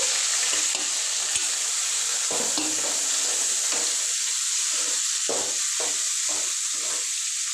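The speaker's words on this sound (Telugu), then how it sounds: "ఉల్లిగడ్డ అయితే ఎర్రగేయండి టమోటా పచ్చిమిర్చి" Onions frying in a pan with tomato and green chili, a steady close sizzle with intermittent stirring scrapes and clinks throughout, no talk.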